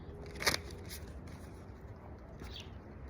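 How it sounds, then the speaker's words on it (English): Tarot cards are shuffled on the knee, giving a few soft, brief riffling and slapping bursts at close range over quiet background hiss, with no speech. "This card just flipped on out as we're doing some knee shuffling"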